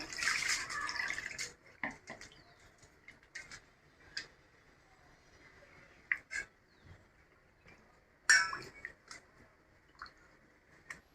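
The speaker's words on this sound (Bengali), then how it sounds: "মাছগুলোকে আমি এখন ভালো করে ধুয়ে নেব।" Fish pieces washed in water give a burst of splashing at the start, then sparse, quiet drips, small splashes and clinks at irregular intervals in a hushed room.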